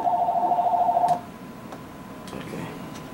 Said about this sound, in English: Pick up the phone, please.